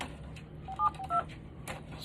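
A few short telephone keypad tones beep on a store phone being taken off call forwarding, faint and close in a quiet room.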